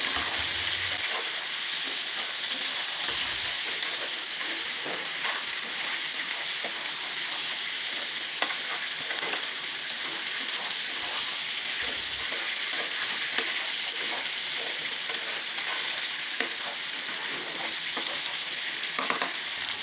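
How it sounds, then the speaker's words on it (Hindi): Ginger frying in a karahi for chicken karahi, a steady, loud, close sizzle with scattered spatters and occasional stirring scrapes, uninterrupted by speech. "अब हम अदरक को पकाएंगे इतनी देर जब तक कि इसका अपना हल्का सा कच्चापन ख़त्म हो जाए।"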